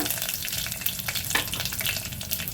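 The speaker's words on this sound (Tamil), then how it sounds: "கடுகு பொரிஞ்சிருச்சுங்க கருகாப்பில் சேர்த்து கொஞ்சம் பட்டை கிராமுங்க" Mustard seeds, cinnamon and curry leaves crackle in hot oil for a soup: a dense, close sizzle with fine popping spits, steady for the whole stretch, and no voices.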